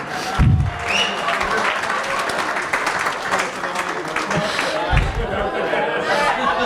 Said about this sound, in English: join me in a round of applause for these two awesome people